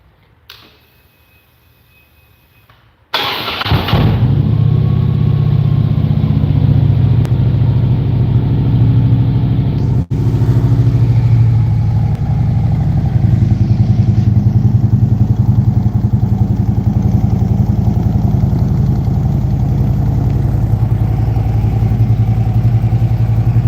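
A motorcycle engine fires up inside a barn after a few seconds of quiet, then runs at a steady, loud, close idle with a deep rumble and one brief dip partway through.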